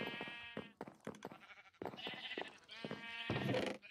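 Several sheep bleat at a sheep farm in the game Minecraft, overlapping wavering calls coming one after another with hardly a pause, close and moderately loud, no voices.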